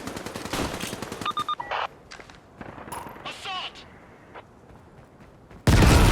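Rapid automatic gunfire bursts from a Caliber tactical shooter match crackle in the first two seconds, followed by scattered shots, game effects and a sudden loud blast near the end.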